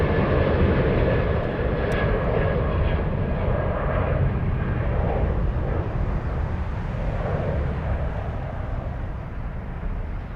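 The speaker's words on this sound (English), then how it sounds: "That's United flight 933 outbound to Washington Dulles on a 777-200ER." United Airlines Boeing 777-200ER jet engines at Frankfurt Airport give a loud, close rushing roar that slowly eases in level over several seconds, with a thin whine riding on top and no speech.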